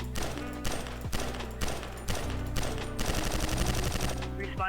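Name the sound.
carbine gunshots in video game GTA 5 with sound pack mod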